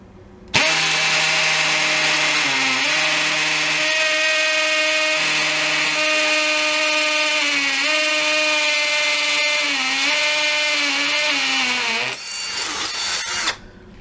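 A cordless drill bores into masonry with a loud, close, sustained motor whine for about eleven seconds. Its pitch sags briefly several times under load, and it stops abruptly before a short rattling tail.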